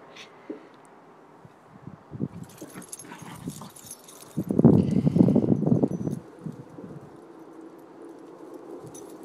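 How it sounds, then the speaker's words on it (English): Cheagle dogs wrestle indoors with growls, snuffles and scuffling paws, rising to a loud burst of tussling in the middle before settling into quieter rustling. "Wrestling Cheagles."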